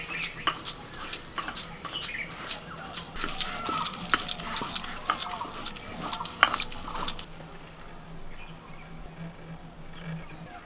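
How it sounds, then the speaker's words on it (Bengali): Wet, squishy hand-rubbing of fish with salt and turmeric, a run of sharp clicks and scrapes over the first seven seconds, then quieter rustling, close up with no talk. "ভালো করে লবণ আর হলুদ মাখিয়ে নিচ্ছে।"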